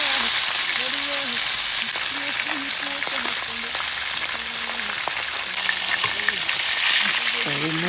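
Steady, loud sizzling of fish frying in hot oil in a pot for Jamaican-style stew fish, a dense crackling hiss that continues throughout with no talking.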